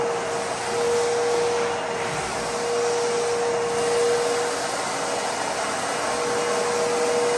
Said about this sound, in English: So we're gonna go ahead and get that vacuumed up now.